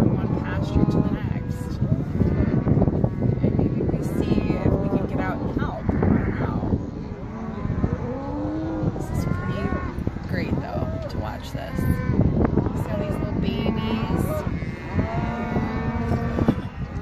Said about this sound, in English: we're gonna watch these cows go from one pasture to the next